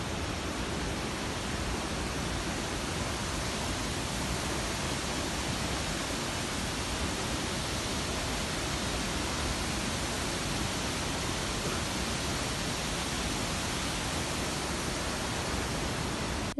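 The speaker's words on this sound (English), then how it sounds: "This waterfall is the most popular tourist attraction in Ginigathena." The Aberdeen waterfall at Ginigathena, Sri Lanka, gives a constant, dense roar of falling water that holds even and unbroken throughout, with no voices.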